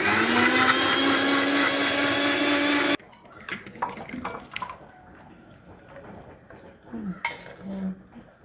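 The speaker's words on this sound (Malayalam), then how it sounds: "ഇതെല്ലാം കൂടി നമുക്കിനി അരച്ചെടുക്കാം." A mixer grinder blends homemade milk soap ingredients, including soap base, in a loud steady whir for about three seconds, then stops abruptly, leaving quiet clinks and handling noises with faint talk.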